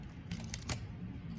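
Film camera advance lever wound once during loading, a few short ratcheting clicks close to the microphone over low room noise.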